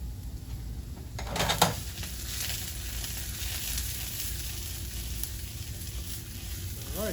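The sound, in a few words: zucchini frying and caramelizing in a pan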